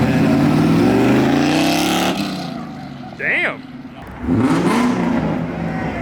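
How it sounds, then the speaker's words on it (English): A Ford Mustang engine revs hard in front of police, its note climbing loudly for about two seconds before dropping away, then surging again later, with a brief voice exclaiming between bursts. "Mr. Mustang Man's revving."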